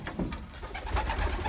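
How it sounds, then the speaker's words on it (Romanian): Pigeons cooing just after being fed, a steady run of soft, low, throaty coos that carry on closely throughout with no one talking. "Tocmai ce le-am dat hrana la porumbei."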